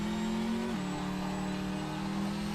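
A Chevy engine in a racing video game holds a steady loud drone that drops in pitch briefly and then settles, a continuous mechanical hum with no talking over it.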